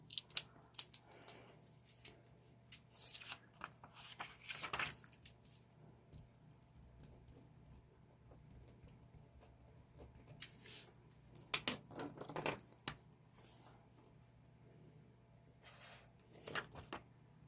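A highlighter pen, including a Style Fit, scratches across paper in short quiet bursts of soft squeaky scribbling, with pauses between strokes and near silence around them.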